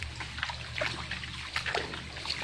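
Water trickles and splashes in a shallow stream, a soft close burble with small splatters and no voices.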